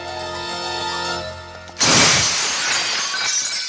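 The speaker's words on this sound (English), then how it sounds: "Busts through the glass," A storefront window shatters in a loud crash in a comedy film, with glass breaking and scattering into a hissing spray, cutting abruptly across a sustained musical chord.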